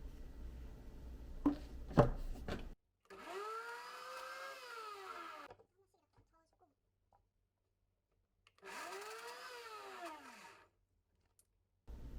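A blender grinding coconut milk and other ingredients whirs in two separate bursts a few seconds apart, its motor pitch rising as it spins up, after some clattering at the start.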